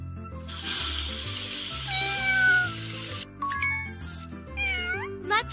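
A cartoon cat in a kids' video game meows several times in rising and falling cries over a steady bed of electronic music and hissing effects.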